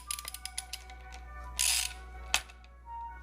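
A 10mm socket on a ratchet wrench clicks in a quick series of light, close ratchet strokes while neck hardware is torqued down on a 5150 guitar build, with a brief metallic scrape and a sharp clack partway through.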